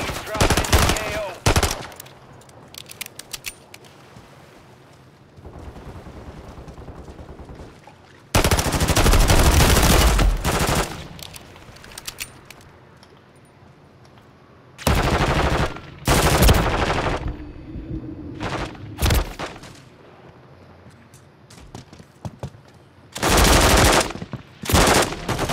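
Machine gun fire in Call of Duty MW3 Warzone solo play: loud, close bursts of rapid automatic shots come in several separate volleys, with quieter combat noise between them.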